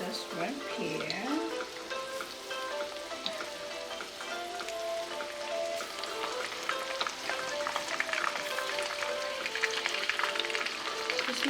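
Shrimp sizzle steadily in a hot pan, a dense continuous frying crackle with faint popping that stays close and even throughout, no voices over it.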